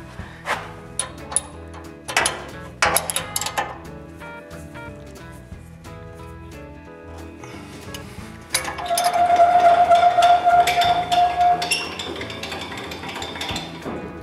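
Two wrenches tightening and locking the 90-degree angle bolt on a table saw, giving sharp metallic clinks and ratcheting clicks, scattered early and then denser with a steady mechanical whir in the second half.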